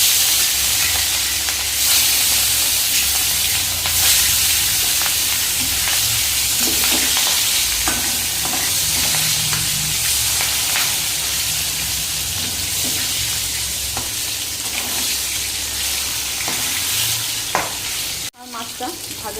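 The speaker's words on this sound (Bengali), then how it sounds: "তেল গরম হয়ে গেছে, এবার আমি মাছটা ভেজে নেব।" Katla fish frying in hot oil in a pan, giving a loud, dense, steady sizzle and crackle heard up close for the whole stretch before it cuts off abruptly near the end.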